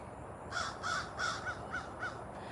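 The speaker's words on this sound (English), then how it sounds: "I hear a crow." A crow caws in a garden, about six harsh calls in a steady, evenly spaced series, moderately close and clear against a quiet background.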